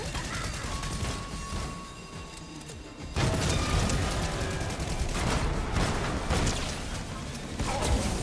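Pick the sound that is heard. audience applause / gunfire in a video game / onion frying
gunfire in a video game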